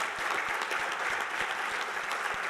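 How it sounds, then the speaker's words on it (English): Audience applause at a Hall of Fame induction ceremony, a sustained, even roar of many hands clapping with a few stronger claps standing out nearby, no talk over it. "Let's give a round of applause."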